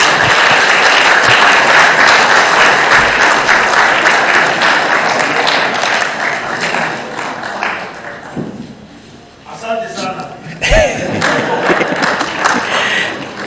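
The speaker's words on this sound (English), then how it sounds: "Let's give another round of applause to the young people." Sustained applause from a large audience at the closing session of the 18th Africa Scout Conference in 2022, a loud steady roar of clapping that dips midway while voices and cheers rise, then swells again.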